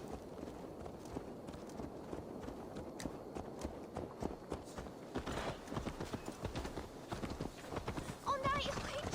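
Horse hooves clip-clopping at a walking pace in the Assassin's Creed Valhalla video game, steady rhythmic steps under game noise and a brief whinny near the end.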